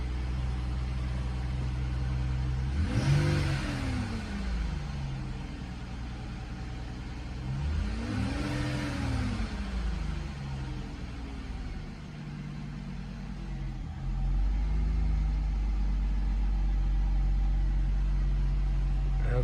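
A 2012 Ford Fusion engine runs after a PCM replacement, a low steady idle heard at close range with two brief rises and falls in engine pitch, like light revs, and no talking.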